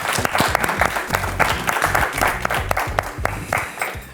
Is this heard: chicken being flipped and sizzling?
no